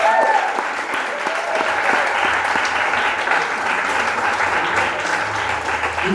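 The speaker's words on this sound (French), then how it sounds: "On peut les applaudir," Loud, sustained audience applause at a cultural event in Fréjus, a steady wash of many hands clapping without letup, with faint voices mixed in.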